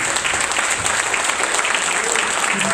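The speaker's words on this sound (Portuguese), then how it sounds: "Só quem crê e aplauda o nome do Senhor Jesus." Church congregation applauding together during a worship service, a steady dense wash of clapping that stays loud and even throughout.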